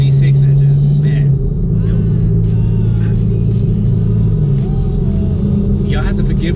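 A loud, steady low exhaust drone from performance mufflers on a 5.7L HEMI fills the cabin without letting up around 2,200–2,500 rpm while someone talks over it.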